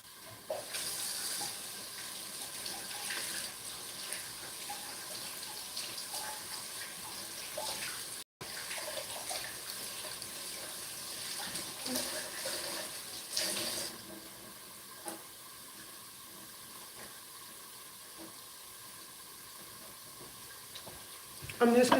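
Tap water running steadily into a kitchen sink while dishes are washed up, a soft continuous hiss and splash that goes on throughout at a fairly low level, with no talk over it.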